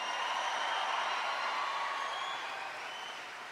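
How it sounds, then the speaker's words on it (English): A crowd at a presidential rally in Cincinnati applauds Charlie Dilbert, a broad, even roar of clapping at a distance that fades slightly toward the end. "I want everybody to give a big round of applause to Charlie Dilbert for that great introduction"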